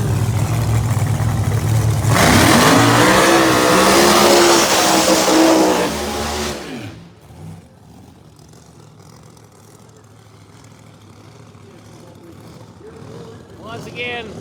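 A Pro Mod drag race car, the VP Montrose Corvette, roars loud and close down the strip in a qualifying round, the engine blaring for several seconds before cutting away and fading to a distant crowd murmur.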